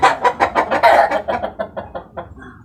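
A hen clucks in a quick run of short, loud, close calls that slow and soften toward the end.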